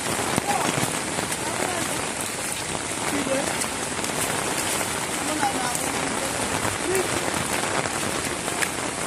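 Heavy rain pours down steadily and loudly on surfaces, a dense unbroken hiss throughout with no breaks in intensity.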